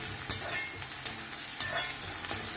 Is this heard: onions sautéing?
yes